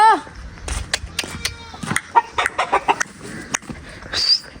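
Chickens cluck and squawk in short, scattered calls close by, with brief rustling and clattering between them.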